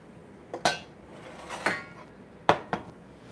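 A spoon clinks and knocks against dishes while scooping ricotta mixture for lasagna rolls, four sharp, distinct hits spaced irregularly in a quiet kitchen, no talking.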